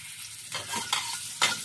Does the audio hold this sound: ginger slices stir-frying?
yes